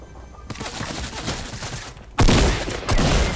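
Rapid bursts of gunfire ring out in the Fortnite battle royale video game, loud and close, a sustained volley followed by heavier, louder shots after a brief gap.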